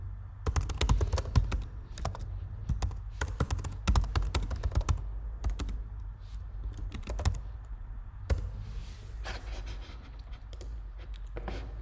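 Computer keyboard typing during a livestream setup, a busy run of close, crisp key clicks in uneven bursts with brief pauses, over a low steady background hum.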